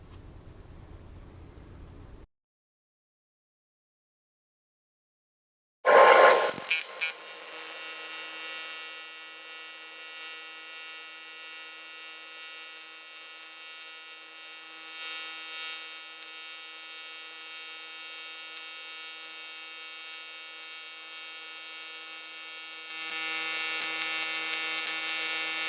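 Steady close hum and hiss of an AC TIG welder running a bead on aluminum at 150 amps, starting with a sharp arc strike after a brief silence and holding an even buzzing tone throughout, with no speech.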